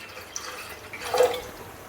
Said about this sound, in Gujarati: કડાઈમાં પાણી ઉમેરશું